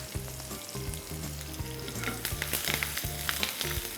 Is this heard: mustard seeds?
yes